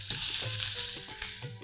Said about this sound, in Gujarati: તેલ ગરમ થાય એટલે આપણે એની અંદર આદુ અને મરચાંની પેસ્ટ છે એ સાંતળી લઈએ.